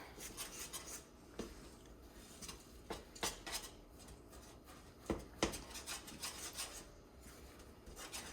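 A spoon stirs no-bake cookie mixture in a pot: steady close scraping and rubbing of metal against the pan, with sharper clanks at irregular moments and no talking.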